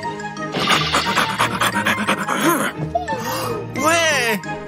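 Rapid, breathy dog panting close to the microphone, with people talking over it throughout.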